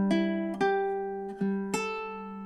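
The first measure of a summery fingerstyle melody on ukulele, four plucked notes in slow, even time, each ringing out close and fairly quiet with no voices.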